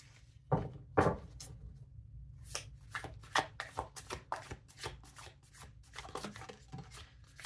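A tarot deck is shuffled and handled up close, two sharp riffles early on followed by a quick run of softer card slaps and flicks at a low, quiet level with no talk.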